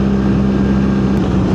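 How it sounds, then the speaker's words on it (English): A 2025 BMW R 1300 GS Adventure motorcycle engine chugs at low revs while riding, a steady deep drone mixed with wind rush. "she's chugging so low in the RPM range"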